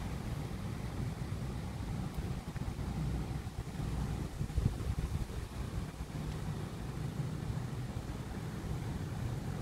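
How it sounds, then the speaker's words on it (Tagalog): Strong wind roars steadily with rain mixed in, a dense, continuous rush buffeting the microphone with no pauses. "Malakas na hangin at saka may kasamang ulan."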